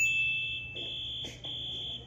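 Security alarm going off in a film scene after a tractor is set on fire, a steady high electronic beeping tone sounding continuously with slight dips, fairly quiet and with no talk.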